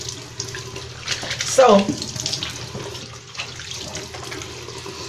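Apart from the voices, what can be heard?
water running from a tap while washing face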